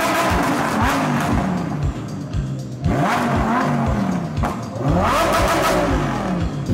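Sports car engine in Corsa mode, revving hard in a series of loud, rising and falling blips with deep throaty roar, close and dominant throughout with no talk.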